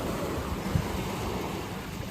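Ocean waves at a beach at night, a steady broadband wash of surf with wind rumble on the microphone, continuous and fairly loud with no talk.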